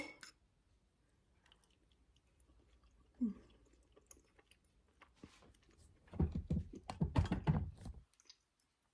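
Someone eating Instant Pot chicken bacon ranch pasta, with a single soft bite near the start and then a burst of close, moist chewing and smacking near the end, otherwise quiet.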